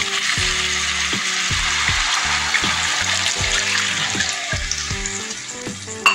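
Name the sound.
water poured into olive barb fish curry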